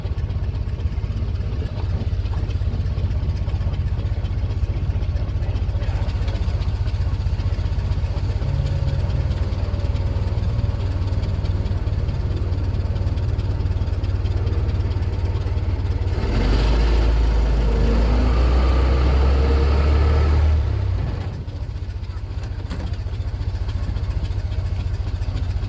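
A Ford Model T engine idles steadily at close range, a continuous low rumbling chug with a brief louder surge near the end before settling back to its even idle.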